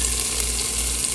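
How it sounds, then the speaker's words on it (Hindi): Soaking water from lentils being drained away in a home kitchen, a steady close pour of running water with no speech. "दाल में जो पानी था उसको हमने निकाल दिया है।"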